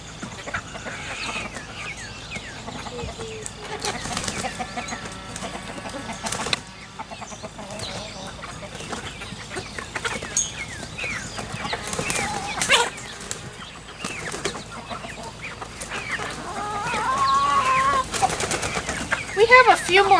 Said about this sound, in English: We have a few more chickens than we did the last time.